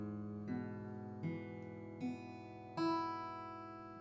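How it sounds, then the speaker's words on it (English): Acoustic guitar in open tuning, set up for a Leaving Liverpool arrangement, struck four times at a slow, even pace, each chord ringing out and decaying into the next, close and clear with no talking. "So all in all, your guitar should sound like this before you start."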